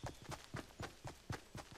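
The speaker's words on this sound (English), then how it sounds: "And I hear footsteps" In Fortnite, a player's running footsteps pass close by: a quick, even series of about eight soft thuds with light scuffs, steady in rhythm and fairly faint.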